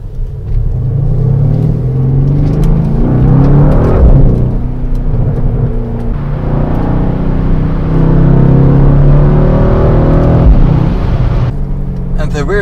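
A 2020 Mercedes-AMG C63 S estate, rear-wheel drive, accelerates hard, its engine a loud, continuous deep rumble that rises and surges through repeated gear pulls, with a person talking over it throughout.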